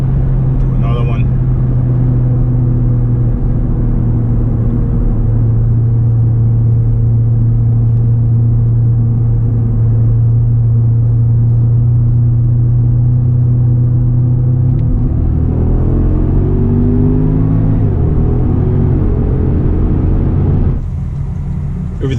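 A Porsche Panamera Turbo S fitted with a Racechip tuning module rumbles at a steady drone, then its engine note shifts and climbs near the end as it accelerates, with people talking over it throughout.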